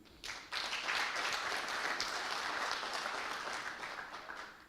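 Dense audience applause in a hall at a university ceremony rises quickly and holds steady, then begins to taper off slightly, with no talking over it.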